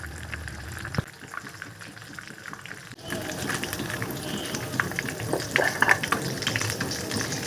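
Catla fish fillets shallow-frying in a pan: a soft continuous sizzle and bubbling that grows louder partway through, with occasional light clicks and scrapes of turning.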